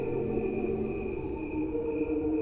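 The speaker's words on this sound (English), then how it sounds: "we hear the crickets again." Crickets chirp at night in a steady, continuous insect drone with a sustained high trill, heard alone with no talking, as a soundscape played in an auditorium after a sunset scene.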